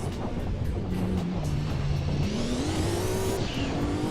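Turbocharged race car engine in the video game Gran Turismo 2, held at high revs with pitch climbing through the gears and shifting, with a turbo whine rising sharply near the end, loud and continuous.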